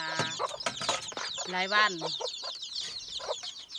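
Chickens cluck and chatter nearby in short repeated bursts, with one louder, drawn-out call in the middle, while a person speaks briefly over them.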